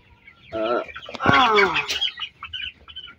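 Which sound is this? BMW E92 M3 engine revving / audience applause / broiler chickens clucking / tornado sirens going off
broiler chickens clucking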